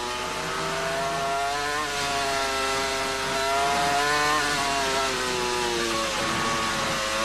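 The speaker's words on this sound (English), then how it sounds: "Listen to the engine." A high-revving Formula One engine screams past during 2002 Suzuka practice, its harmonic whine rising and falling with gear changes, loud and continuous with no voices.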